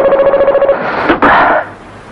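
An old telephone in a 1990 Indonesian film rings with a warbling electronic tone, then gives way to a brief whooshing sound, close and fairly loud.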